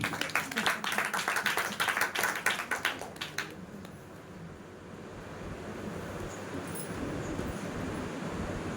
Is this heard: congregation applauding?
yes